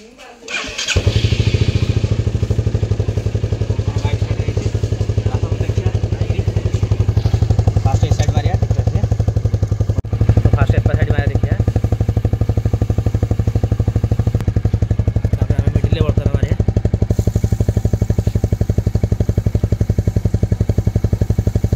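A Royal Enfield Bullet motorcycle starts up and settles into a steady, loud idle with its characteristic rapid thumping beat, running continuously and close by with a little mechanical clatter throughout.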